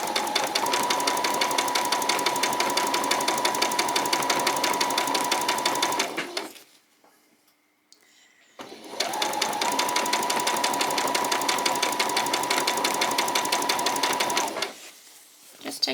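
A sewing machine runs in two long, steady bursts of about six seconds each, with a short pause between them, as it stitches close along the edge of an embellishment on a butterfly and bee outfit. The whirring is loud and close, and a low voice is faintly present.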